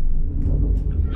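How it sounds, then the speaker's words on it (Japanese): Thunder rumbling in the truck-driving simulator Project Japan during rain, a brief low deep roll that swells and holds for about a second. "うわ、雷まで鳴ってきた"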